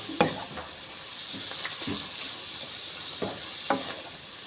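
Sweet corn is mixed in a frying pan: scattered scrapes and light clatters of a utensil against the pan over a steady sizzling hiss, fairly close and with no talk.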